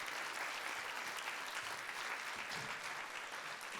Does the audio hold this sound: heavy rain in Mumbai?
no